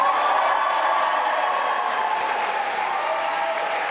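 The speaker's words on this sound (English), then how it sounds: "Huge round of applause for Ian Lavery there, keeping that seat." A large crowd at a UK general election count applauds loudly and steadily, a dense wash of clapping with a few faint cheers mixed in.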